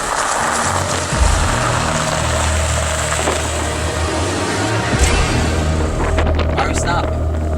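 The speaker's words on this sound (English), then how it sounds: "The engine noise. I hear it." A steady, loud engine rumble drones throughout, with wind buffeting and a few faint knocks on top.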